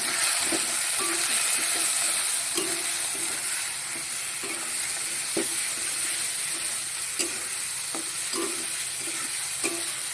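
Spices with salt and turmeric are sautéed in a pan for a spicy Bengali pabda fish curry, with a steady hissing sizzle and intermittent soft clicks and scrapes from stirring, no voices present.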